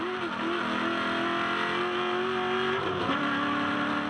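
A V8 ute race car engine howls steadily at high revs at the Adelaide Clipsal 500, then briefly drops in pitch around three seconds as it shifts into fourth gear through turn 3 and pulls again, loud and close.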